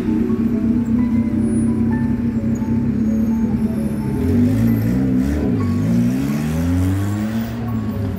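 A car sweeps closely past a pedestrian on a street in the old centre of Grozny, its engine and tyre noise rising and falling as it passes, over steady traffic rumble.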